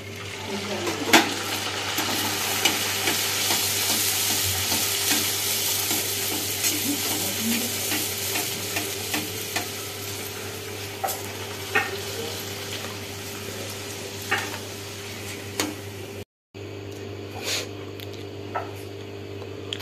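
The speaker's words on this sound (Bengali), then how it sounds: "গরম গরম ফুলকো লুচি ভেজে রেখেছি" Luchi, puffy Bengali flatbread, deep-fries in hot oil with a constant dense sizzle and scattered small pops and clinks of utensils, a brief gap, then more sizzling.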